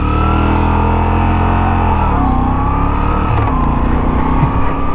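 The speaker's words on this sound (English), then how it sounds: "when you're stationary and you blip the engine" A 2022 Moto Guzzi V7 Stone with an 850cc V-twin, stationary, its engine running loud and close with a throttle blip that lifts and then settles back into a lumpy idle.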